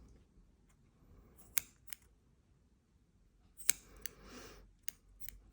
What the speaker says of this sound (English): all you have to do is cut the tails